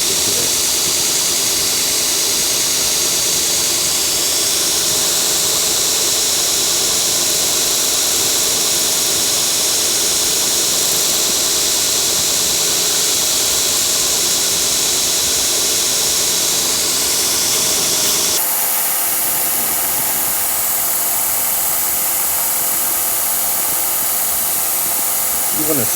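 A grinding wheel steadily shaping a knife handle scale with light pressure, a continuous high whir running loud and close throughout, shifting tone near the end as contact changes.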